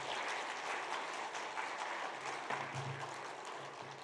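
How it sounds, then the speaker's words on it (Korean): A church congregation at a Sunday worship service claps together to welcome the pastor, a sustained burst of dense applause that holds steady and then gradually thins, with a brief low hum near the end. "감사합니다, 환영합니다만 박수로서 모시겠습니다"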